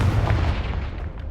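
A Confringo spell explosion in Hogwarts Legacy, a single muffled boom whose low rumble fills the moment and fades out over about a second, alone with no talking.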